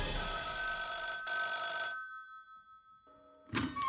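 An old-style telephone bell rings loudly and continuously, stops for about a second of quiet, then starts ringing again.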